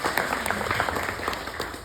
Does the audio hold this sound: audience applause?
yes